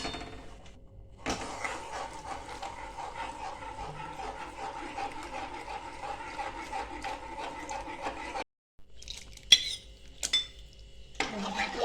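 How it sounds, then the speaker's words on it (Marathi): A spoon stirs ragi flour porridge in a metal pot, producing continuous clinking and scraping against the pan for several seconds, then a brief pause followed by a few sharper knocks, close and moderately quiet with no speech. "एका चमच्याने ना सारखं पीठ हलवत राहायचं आहे"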